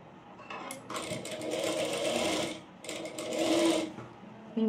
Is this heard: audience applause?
no